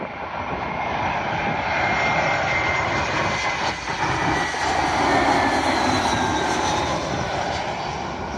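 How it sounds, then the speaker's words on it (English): British Airways Airbus A320 on arrival at London Heathrow runway 27L, a loud sustained jet engine roar passing close with a broad whooshing rumble, no talking. "Arriving in now is a British Airways A320, working a service from Geneva to London Heathrow."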